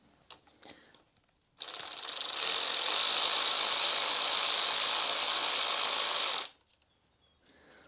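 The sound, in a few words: ratchet winding out a 10mm bolt on Suzuki GSXR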